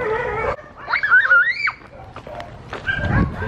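A dog at a Japanese tea garden gives a high whimpering yip and whining cry in the middle of a short outdoor scene, close and fairly loud, with murmuring voices around it.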